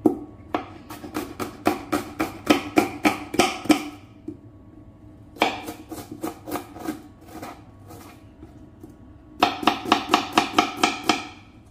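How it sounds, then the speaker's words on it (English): An onion is chopped into small pieces on a board in three quick bursts of rapid, evenly spaced knife strikes, crisp and close, separated by brief pauses. "Then cut onion, chop into small pieces as well."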